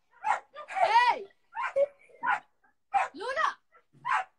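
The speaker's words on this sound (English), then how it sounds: "What is he even barking at?" A pet dog at home on an Instagram livestream barks several times in short separate bursts, near and fairly loud, with people talking between and over the barks.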